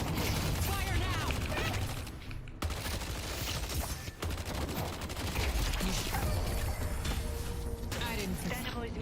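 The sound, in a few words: gunfire in a video game match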